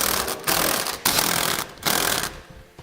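A 15/16 socket on a ratchet tightening frame bracket bolts on a 2015 Chevrolet Silverado 2500 during a gooseneck hitch install, loud rapid ratcheting clicks in three or four bursts separated by brief pauses.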